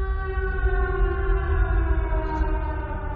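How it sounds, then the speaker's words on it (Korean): A steady siren wails continuously and loudly, its sustained tones holding throughout without pause. "그리고 다시 사이렌이 울리기 시작합니다."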